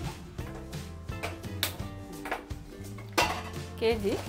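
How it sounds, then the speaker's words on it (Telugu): Metal pots and dishes clank and rattle in a kitchen as a pan is set on a lit stove while making sweet-shop style badusha, with several sharp knocks and scrapes. "ఇప్పుడు స్టవ్ ముట్టించుకుని గిన్నె పెట్టుకుందాం"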